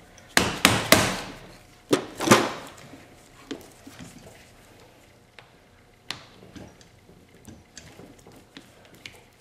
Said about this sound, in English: These are my cheap screwdrivers for pounding the heck out of.